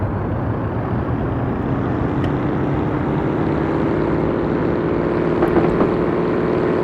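A locomotive in Train Sim World throttling up, a loud continuous low engine drone that holds steady and swells slightly near the end, with no talking.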